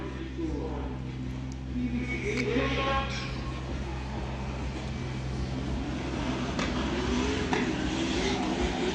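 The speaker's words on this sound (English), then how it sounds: "We have Natalia with the Red Bull BMW coming around, claiming clip 2 very nicely from Natalia." A Red Bull BMW drift car runs a race-track practice session, its engine rising and falling at a distance beneath continuous commentator talk.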